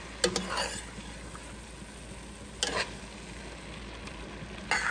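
Yakimeshi with egg and chicken being stir-fried in a pan, a low continuous sizzle broken by a few sharp scrapes and clatters of the spatula, with no voice over it.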